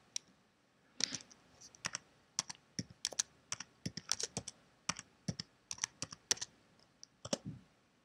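Keys clatter on a computer keyboard as a web address is entered, short irregular bursts of clicks with brief pauses, close and fairly quiet with no voices.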